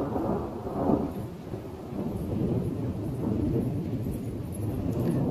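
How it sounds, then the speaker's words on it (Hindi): Deep rolling thunder rumbles continuously over steady heavy rain, loud and sustained throughout with no voices. "बिजली की आवाज आप सुन ही रहे हैं,"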